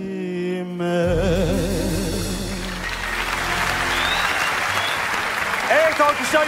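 Studio audience applause on a Turkish televised singing competition, following a contestant's vocal performance; a sustained wash of clapping that starts as the final sung notes and music fade, with a host's voice joining near the end.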